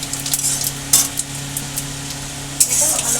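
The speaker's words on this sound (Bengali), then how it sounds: "এখানে নিয়েছি একটু পাঁচ ফোড়ন ভালো করে নাড়িয়ে নেব" Panch phoron spices sizzling in hot oil while being stirred, a close crackling hiss with a few bright scraping bursts from the spoon against the pan.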